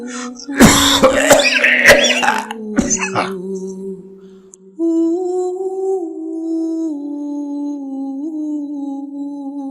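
A voice acts out the harsh coughing fit of an elderly colonel in a Bengali historical fiction audio drama: several rough, close throat-clearing coughs in quick bursts, then a pause and a steady sustained tone.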